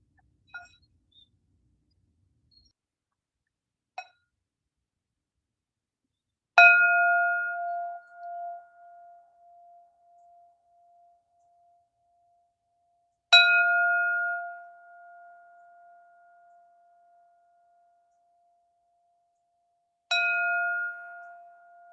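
A bell rings with three clear, loud metallic strikes spaced several seconds apart, each leaving a long sustained ringing tone that fades slowly, with a few faint small taps before the first strike.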